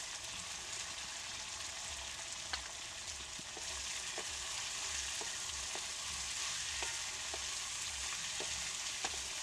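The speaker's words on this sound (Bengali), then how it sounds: "আলুটাও আমার একটু লাল লাল করে ভাজতে হবে" Chopped potatoes and tomatoes fry in a pan for a village-style Bengali bele fish curry, giving a steady broad sizzle with occasional sharp crackles and spatter pops, close and continuous with no talking.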